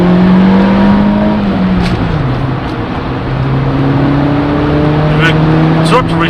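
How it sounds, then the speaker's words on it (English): Audi 80 B2 with a swapped 1.8 20V turbo engine pulling hard under acceleration, a loud, steady engine drone rising through the gears with a brief dip near the middle, heard close from inside the car. "So I think we should do an acceleration test."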